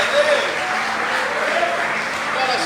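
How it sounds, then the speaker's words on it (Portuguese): Congregation applauding in a church service, a dense steady wash of clapping lasting a few seconds with faint voices and cheers mixed in. "Dá um aplauso ao Senhor"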